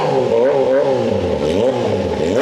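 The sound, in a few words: Kawasaki ZH2 motorcycle revving in launch control mode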